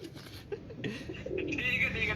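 Soft cooing of Royal Teddy pigeons murmurs amid outdoor background noise, faint and somewhat distant.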